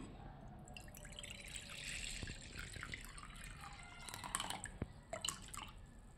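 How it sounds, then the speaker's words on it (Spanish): Milk pours onto cereal in a bowl, a steady liquid trickle and splash with drippy spatters, close and moderately quiet, ending in a few sharper drips. "Primero que nada, le vamos a agregar la leche."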